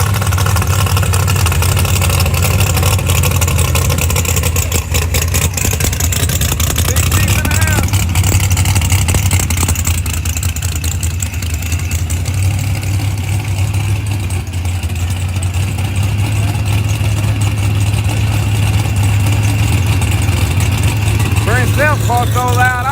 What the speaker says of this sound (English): Car so loud, I thought this car cut off. It's still running though.